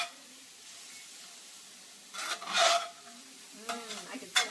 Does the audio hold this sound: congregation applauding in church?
no